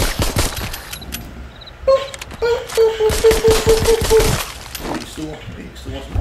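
Gunfire in an Oculus Rift VR shooter played on a Quest 2 comes in dense, loud bursts of rapid shots and impacts, with someone talking over the shooting.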